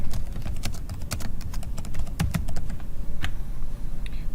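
Keys clatter on a computer keyboard as a title is typed into Google Sheets, a close, uneven run of crisp taps with brief pauses between bursts.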